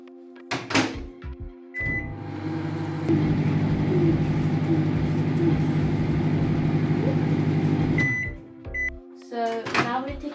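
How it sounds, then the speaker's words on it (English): A microwave oven runs for about six seconds while baking an eggless chocolate mug cake, its steady low hum starting and stopping with clicks and a short beep at each end, with brief kitchen handling sounds before and after. "we're going to put it in the microwave for 1 minute"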